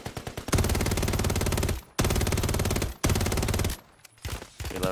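Sustained automatic gunfire in Modern Warfare 3, long rapid bursts broken by brief pauses, loud and close, with no talk.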